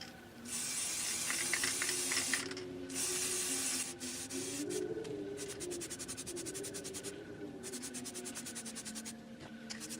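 In a spray booth, an aerosol can lays a coat of matte black primer onto a Hellraiser puzzle-cube replica, close bursts of hissing spray with short pauses and the can's rattling ticks between them.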